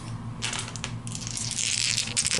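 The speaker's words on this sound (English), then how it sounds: "Let's go ahead and spin our 4 dice." Four dice spun and rolled during a tabletop board game: a loose, gritty clatter with rattling bursts that carries on steadily for a couple of seconds, close and fairly quiet, with no talk over it.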